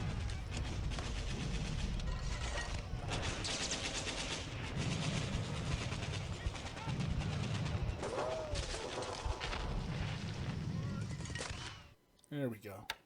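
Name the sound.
machine gun fire in a WWII strategy video game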